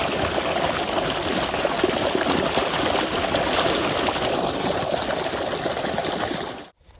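Water runs steadily during a bath: a loud, even splash and gush lasting nearly seven seconds before it cuts off abruptly, with no talking.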